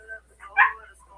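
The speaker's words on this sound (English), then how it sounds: "Don't bark at me." A single short dog bark or yip, close by, with faint background noise.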